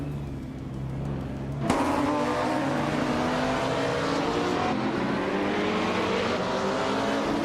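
A 2019 Ferrari 488 GT4 and a field of race cars launch off the start at Buxton in a racing game, a steady idle leaping into a loud, sustained roar of revving engines that stays dense and close for the rest of the stretch.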